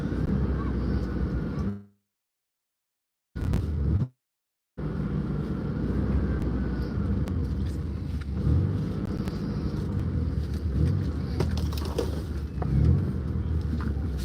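A car drives along toward the beach at Sand Bay, running on a recently replaced clutch cable, with a steady interior engine and road rumble that cuts out twice briefly before continuing evenly.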